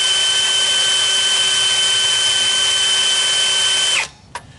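A power drill bores a center hole into a Ford 6.0 diesel engine block at the block heater port, running with a loud steady high whine for about four seconds before stopping, followed by a single faint knock.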